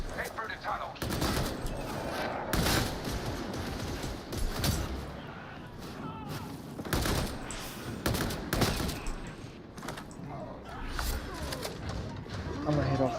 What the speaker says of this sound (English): With the brace autogun, you don't actually have to brace to do well. Just, you know, start shooting.